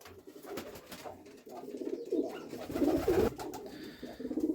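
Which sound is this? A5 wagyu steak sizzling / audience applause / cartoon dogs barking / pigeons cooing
pigeons cooing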